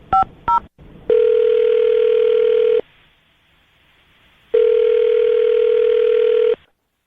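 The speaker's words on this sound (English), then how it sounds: "I'm going to dial his phone number right now" Two short keypad tones, then a steady telephone tone sounds loudly for about two seconds, pauses, and repeats for another two seconds, with no talking while the call is placed.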